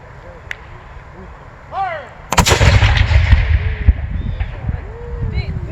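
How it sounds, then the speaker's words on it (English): A 19th-century artillery cannon fires once with a sharp, loud blast that rolls into a long rumbling echo, with outdoor ambience and bird calls around it. "Once everybody steps out from behind the gun to save him from recoil, they're ready to fire."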